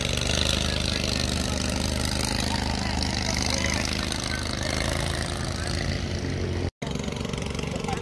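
A boat engine idles steadily at a Tonle Sap lake fish market in Cambodia, a continuous low mechanical drone running throughout with a momentary dropout near the end.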